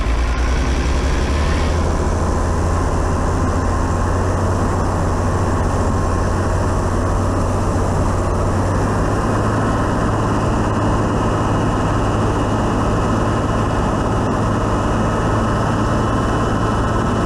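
A 4BT diesel engine running in a vehicle, a loud steady low rumble with a constant droning hum, close and continuous with no talk over it.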